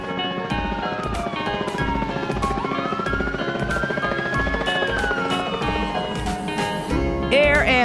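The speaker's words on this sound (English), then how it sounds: "Air ambulance." Cartoon air ambulance helicopter with a steady rotor chop running throughout a children's animated vehicle show, blended with a gliding tone and backing music at a constant, fairly loud level.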